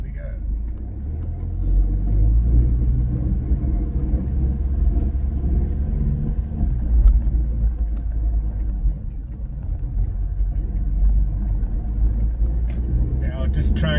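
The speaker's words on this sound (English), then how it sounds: "here we are towing now, and it's a pretty big van in my view" Car towing a large caravan on the road back to Port Macquarie, a steady low road rumble and engine hum inside the cabin, with speech over it and a faint rattle near the end.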